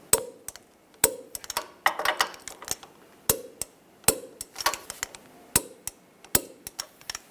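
Sharp ratcheting clicks and metallic taps from tightening the front lower control arm bolts on a 2004-2009 Toyota Prius, in repeated bursts of about one per second, close and clear with no talking.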